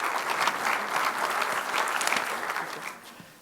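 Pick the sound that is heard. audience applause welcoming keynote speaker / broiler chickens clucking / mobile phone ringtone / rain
audience applause welcoming keynote speaker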